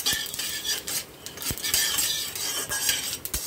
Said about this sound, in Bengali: তারপরে এর মধ্যে দিয়ে দিচ্ছি 5 ফোড়ন